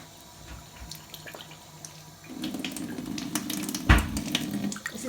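Water pours steadily from a tap into a container, a soft rushing splash that starts partway through and continues to the end.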